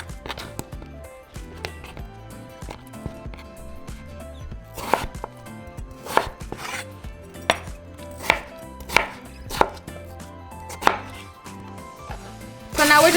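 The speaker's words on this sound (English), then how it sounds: "now we're just going to cut our potatoes" Knife chopping potatoes into bite-size pieces on a cutting board, a series of sharp distinct cuts spaced unevenly over a low background of music, close and fairly loud, ending in a denser flurry.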